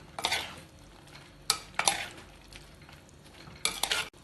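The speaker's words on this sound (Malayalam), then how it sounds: "ആദ്യം ഒന്ന് ഇളക്കി കൊടുക്കാം." Spoon scraping and stirring chicken and jackfruit seed curry in a pot, a few bursts of clattering around a quieter bubbling background, close and fairly loud.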